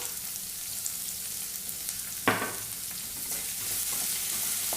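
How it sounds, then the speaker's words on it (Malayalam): Onions sautéing with salt in a pan for green peas curry, a quiet steady sizzle broken by one sharp scraping stir, then the sizzle swells slightly louder. "സവാള നല്ല വഴറ്റണം കുറച്ച് ഉപ്പിട്ട് കൊടുക്കാം"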